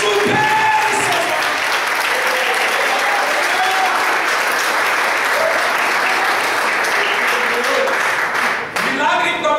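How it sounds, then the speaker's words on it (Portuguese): Church congregation applauding at a Brazilian Pentecostal vigil service, a loud, sustained wash of many hands clapping throughout, with voices mixed in and a brief dip near the end. "Aplauda o Senhor por aplaudir."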